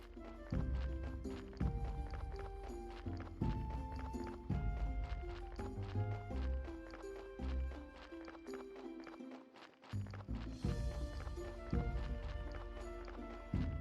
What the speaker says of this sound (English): here's the donkey with a new body for me